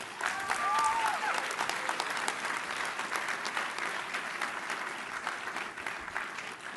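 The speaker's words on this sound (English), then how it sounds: "Can we get a bipartisan round of applause for Secretary Kennedy" Audience applause at a food policy celebration, a broad steady wash of clapping from a large crowd that runs throughout without letting up and fades only slightly toward the end.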